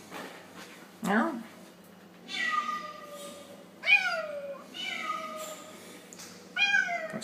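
A cat meows repeatedly after arriving in a new flat, several drawn-out rising and falling calls spaced a second or two apart, close to the microphone, with people talking softly between them.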